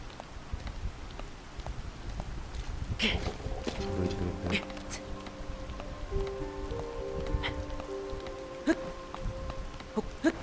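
Rain falling in the video game The Legend of Zelda: Tears of the Kingdom, a steady hiss of drops on surfaces throughout, with brief musical game tones layered in the middle.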